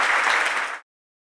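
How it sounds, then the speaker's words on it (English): Conference crowd applauding at a net zero energy event, a short loud burst of clapping lasting under a second before cutting off abruptly. "Please, a huge round of applause for Majd Fayyad"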